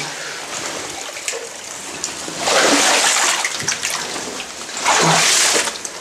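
Water sloshes and splashes in heavy surges as someone in rubber boots wades thigh-deep through it in an abandoned sewage treatment plant, with two louder swishing pushes standing out.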